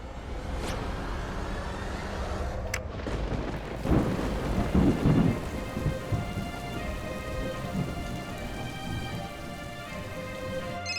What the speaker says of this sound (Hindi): बारिश हो रही है क्या वहां पे?